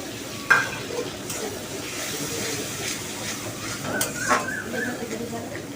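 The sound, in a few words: spice masala frying in oil with tomato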